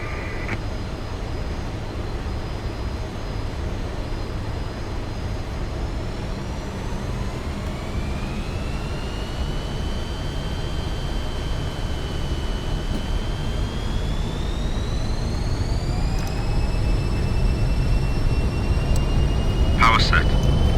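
Jet engines of a Fokker F28 airliner in flight simulation, spooling up to takeoff power for departure from Paris Orly: a loud, continuous roar with whining tones rising gradually in pitch over about twenty seconds, no talking.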